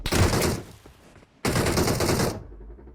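Automatic gunfire aimed at the player in PUBG Mobile, two loud, close bursts of rapid shots split by a brief pause, with no talking.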